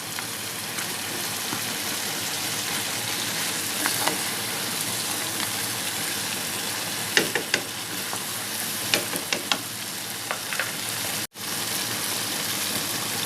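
Mutton chop masala being fried and stirred in a pan during bhunai, a steady close sizzle with scattered crackles and a few utensil clicks, and no talking.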